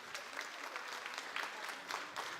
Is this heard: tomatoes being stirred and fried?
no